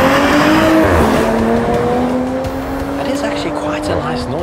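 Toyota Supra engine accelerating hard from a launch, a loud close rising engine note climbing steadily through the revs, with someone talking over it.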